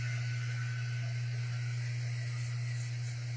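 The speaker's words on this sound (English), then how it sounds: "and I have my air conditioning on. You can probably hear it in the background." An indoor air conditioner running steadily in the background, a constant low hum with a broad airy hiss, unchanging throughout and with no talking.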